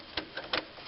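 A tool taps repeatedly on a stuck part while a timing belt, water pump and front seals are being replaced on a Dodge Caravan 3.0L engine, three or four quick close metallic knocks in under a second.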